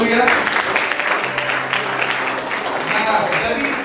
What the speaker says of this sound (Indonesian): boleh kasih tepuk tangan yang meriah